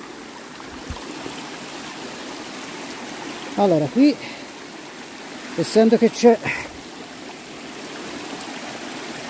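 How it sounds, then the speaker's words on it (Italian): A woodland stream hisses and trickles steadily throughout, in the Valdinievole woods where a hiker is crossing the water; someone talks briefly over it twice. "vediamo un po' di non cadere in acqua"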